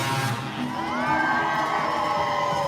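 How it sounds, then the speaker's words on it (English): A crowd at a runDisney race cheers and whoops together, a burst of mixed voices that swells and holds at a moderate distance as a horn sounds. "that's kind of cool to hear everybody kind of cheer as they do the horn there"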